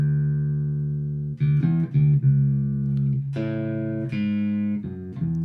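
An electric bass plays a melodic line in its higher register for a song, with sustained, smoothly connected notes shifting pitch every half second or so, steady and alone.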